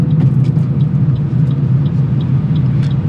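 A car driving on a local road just after a shift into second gear, a steady loud low engine rumble with continuous road noise and faint light ticks, no voices.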